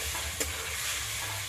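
Potatoes are sautéed in egg curry masala in a pan, with a continuous close sizzle and one quick scrape of the spoon.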